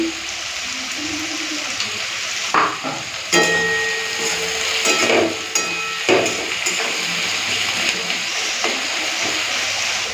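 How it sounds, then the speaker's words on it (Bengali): Chopped onions with a bay leaf and salt fry in oil for a meat and potato curry. A steady sizzle runs throughout, broken by loud metal spatula knocks and scrapes as the pan is stirred, and no one speaks. "একটা তেজপাতা দিয়ে দিলাম পেঁয়াজ ভাজার সময়"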